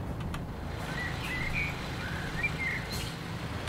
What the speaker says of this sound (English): Well, that sounds cool, bird sounds.